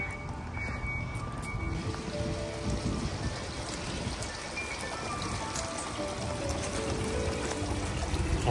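Continuous splashing and pouring of water in an outdoor fountain at a school campus, steady and fairly close, with no talk over it.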